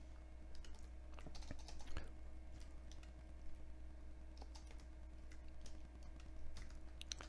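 Fingers typing a description on a computer keyboard in Inventor CAD software, with light, scattered keystrokes, faint and close, over a steady low electrical hum.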